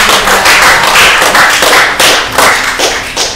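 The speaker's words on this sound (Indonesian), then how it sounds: "tepuk tangan dulu dong untuk Bapak" Audience clapping for a military officer at a dialogue event in Ambon, a dense steady burst of applause from a crowd, close and loud throughout.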